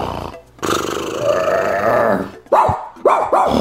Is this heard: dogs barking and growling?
yes